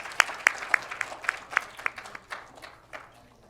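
Rhythmic clapping at a Korean Women Journalists Association 60th anniversary ceremony as the Australian ambassador is welcomed, distinct evenly spaced claps in a modest room that soften and fade.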